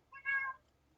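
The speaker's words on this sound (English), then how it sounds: "This cat won't stop." A house cat gives a single short meow, fairly faint and close, rising and falling within half a second against a quiet background.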